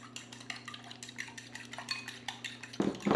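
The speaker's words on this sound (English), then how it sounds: "We're going to go ahead and whisk this stuff up." Fork whisking eggs for an omelette clicks rapidly against a bowl in a steady, quick rhythm, close and fairly quiet over a low hum, ending in a louder clatter.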